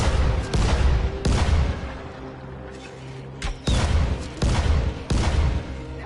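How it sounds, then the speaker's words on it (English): Loud blasts in the zombie game Dying Light, several broadband booms arriving in bursts with short pauses between them, close and heavy, with no talking over them. "Let's get back from the fucking explosion."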